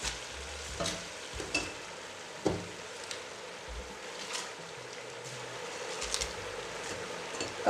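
Cabbage tipped onto onion and carrot frying in a pan, a soft steady sizzle with several close rustling, scraping stirs and thuds, fairly quiet overall.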